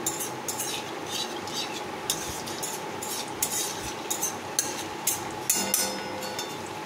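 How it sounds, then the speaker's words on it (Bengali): Whole cumin and bay leaves sizzling in hot oil in a wok, a steady crackling hiss punctuated by sharp metallic taps and scrapes of a spatula, close by with no talking. "কড়াইয়ে আমি তেল গরম করতে দিচ্ছি। তেল গরম হয়ে গেছে। তেলের মধ্যে আমি দিয়ে দিয়েছি গোটা জিরে, তেজপাতা"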